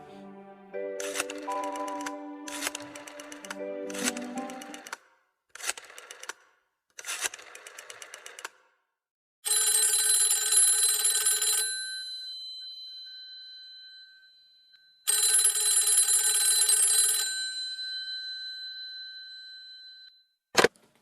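A telephone rings in a Bengali audiobook drama: two long electronic ring bursts, clear and close, follow a run of short clicking and beeping tones, with no voices.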